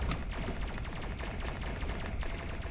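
Assault rifle fire in a video game: a rapid, even stream of rattling automatic shots, fairly faint and distant, running without pause for a few seconds.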